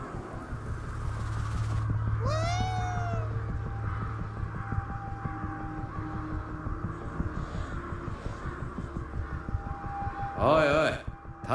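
A cat meows in the video game Ghostwire: Tokyo, in two short rising-and-falling calls, one early and one near the end, over a low rumbling game ambience with faint voices.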